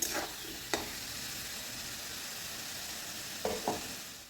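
Potatoes with a little turmeric frying in a pan, a soft steady sizzle with a couple of brief spatula scrapes, one near the start and a pair near the end, no talk.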